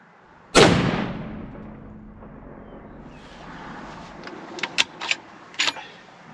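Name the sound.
Savage rifle gunshot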